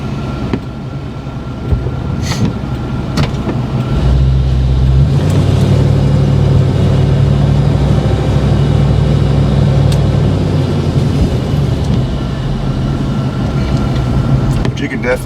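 A short-wheelbase Chevrolet Blazer truck drives along with a steady engine drone and road rumble that swells louder midway, with a fan running and some wind noise in the cabin.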